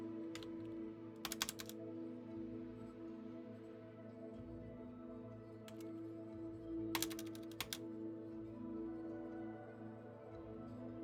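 Clicky computer keys typed in short bursts of rapid taps separated by pauses, close and crisp over a steady low hum.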